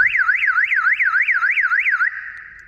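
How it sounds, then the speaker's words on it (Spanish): Aftermarket alarm on a VW Saveiro G1 pickup wailing in a fast rising-and-falling warble, loud and close, then settling into a steady tone that fades out. "activar la alarma y ahora cuando lo suelto"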